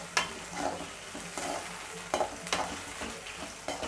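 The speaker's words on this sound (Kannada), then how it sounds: "ಇದು ಹಸಿ ವಾಸನೆ ಹೋಗೋವರೆಗೂ ಸ್ವಲ್ಪ ಚೆನ್ನಾಗಿ ಫ್ರೈ ಮಾಡ್ಕೊಳ್ಬೇಕು." Ground green chilli paste frying in a pan crackles softly while a spatula stirs it in short, irregular scraping strokes, several sharper clacks standing out, close up with no one speaking.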